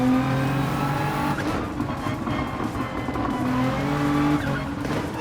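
Race cars roar in Gran Turismo 7, engines droning close and loud with shifting pitch and a brief tire squeal, running continuously for about five seconds with no voices.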